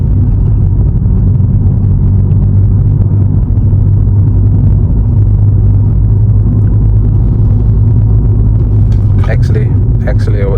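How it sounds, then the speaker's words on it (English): Interior cabin rumble of a VW Polo 1.2 TSI (66 kW) driving downhill on a mountain road, a loud continuous low drone with road noise and a few faint clicks near the end. "Okay, so we are officially driving downhill."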